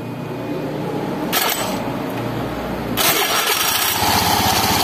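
A Honda Beat FI motorcycle whose starter had been failing with only a ticking sound cranks with a loud whirring burst for about two seconds. The engine then catches and settles into a steady, close idle.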